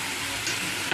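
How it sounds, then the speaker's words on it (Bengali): Banana flower (mocha) being stirred as it fries in a pan, a steady broadband sizzle with soft scraping of the spatula, close and continuous, with no talking. "এবার ভালো করে একটু নাড়াচাড়া করব।"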